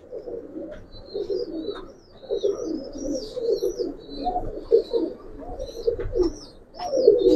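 Pigeons coo in repeated low throaty phrases close by, with higher chirps from other birds scattered over the top.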